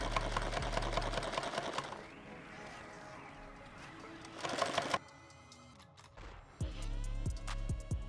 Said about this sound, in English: you can sew it from the handle side up too